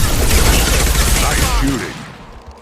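Video-game gunfire during an ambush in Mass Effect 2, a dense, loud fusillade of rapid shots that thins out and fades toward the end, with a brief sharp burst at the very close.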